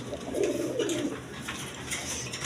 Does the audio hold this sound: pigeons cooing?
yes